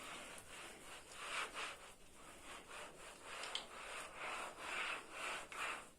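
A dry cloth rubs across a painted wall in a series of soft, close, rhythmic swishing strokes, quiet and with no talking.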